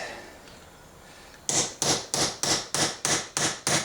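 Eight sharp metallic strikes of a hammer on a punch flattening a primer anvil land in a steady rhythm after a second and a half of quiet, each ringing briefly, close and loud.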